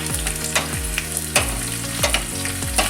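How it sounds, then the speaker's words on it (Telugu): A tempering of crushed garlic and curry leaves sputters in hot oil for tomato rasam, with a loud continuous sizzle and several sharp stirring clatters. "ఇక్కడ పోపు వేగుతోంది"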